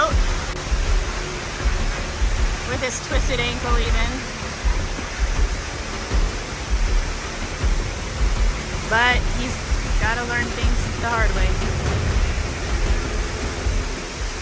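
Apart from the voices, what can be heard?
Kiki Waterfall in Panama, falling water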